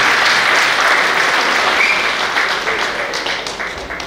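Loud, sustained crowd applause fills the hall at a grand get-together event in Chandrapur as a co-anchor is welcomed onto the stage, a dense steady clapping that gradually thins toward the end, with no talk over it.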